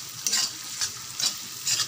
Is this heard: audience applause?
no